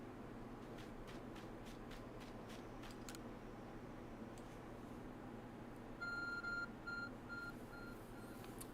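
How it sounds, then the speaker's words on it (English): Faint electronic beeping from the Arc Phone in Pokémon Legends: Arceus, sounding as a few short repeated tones over a quiet, steady game background. "My Arce phone is beeping."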